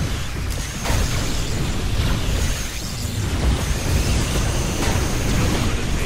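A particle cannon blast in C&C Operation Firestorm, a loud, sustained, roaring blast with continuous crackling rumble lasting several seconds.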